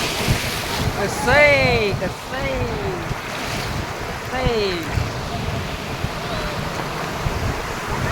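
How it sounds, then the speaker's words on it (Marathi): Sea waves surge and wash along Ganpatipule beach with steady wind noise, a continuous broad roar that swells briefly, while a person talks over it. "ही बघा लाट हो का लाट कशी लाट आहे"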